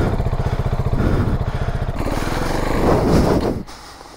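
A Gas Gas dirt bike engine revs hard and close, a loud buzzing growl that pulses with the throttle, climbs toward the end, then cuts off sharply, leaving quiet.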